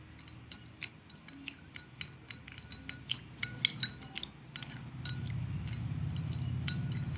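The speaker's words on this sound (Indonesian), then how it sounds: "Kemudian mengaduknya menggunakan sendok." A spoon clinks repeatedly against the side of a glass while stirring water and citric acid, light rhythmic taps speeding up, then a low swirling wash of liquid takes over.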